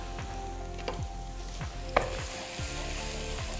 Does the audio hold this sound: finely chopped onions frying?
yes